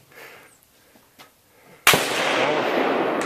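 A single sharp, loud pistol gunshot fired at a Hawaiian Punch jug during target shooting, following a quiet stretch and leaving a sustained, heavy noise wash afterward.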